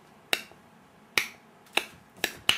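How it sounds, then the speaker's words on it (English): A compact Geiger counter ticks from background radiation, giving four sharp, isolated clicks at irregular intervals against a quiet room. "if the instrument has a speaker, it gives off a click"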